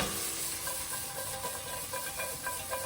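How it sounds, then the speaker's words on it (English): Carrots and broccoli, charred and being stirred in melted butter in a hot pan, sizzle steadily up close, with soft scraping and stirring touches running through the hiss. "you want to get it around in there in all that butter, so mix it all around in there"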